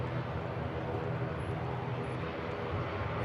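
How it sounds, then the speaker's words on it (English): A British Airways airliner departing Manchester Airport for Heathrow, heard as a steady, broad engine roar at moderate distance, holding even throughout with no talk over it. "There's the BA back to Heathrow."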